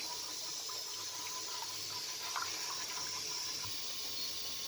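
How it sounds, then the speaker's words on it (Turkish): Hot tap water runs steadily for lentil soup, a continuous close rushing stream from the faucet with no talk over it. "Daha sonra sıcak su ilave edeceğim biraz daha."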